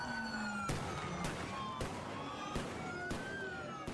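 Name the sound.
flashbangs exploding during ICE raid in downtown LA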